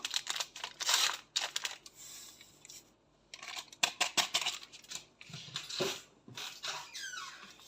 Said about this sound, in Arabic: وهنحط كيس خميره